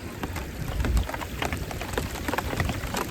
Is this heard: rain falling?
yes